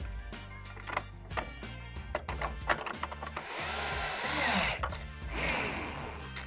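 Power drill driving screws into pre-drilled holes in a dense wooden bar top on a backyard patio bar, with repeated short whirring bursts that become a longer, steadier strained run near the end.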